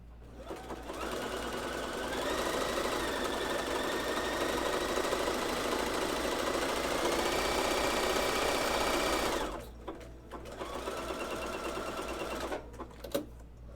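Sewing machine stitching women's underwear hums in a steady, even run for about nine seconds, stops briefly, then whirs again in a shorter burst, close and alone.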